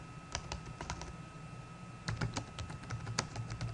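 Keys clatter on a computer keyboard in quick irregular bursts, close by and fairly faint, with a short pause before a denser run of keystrokes; no one speaks.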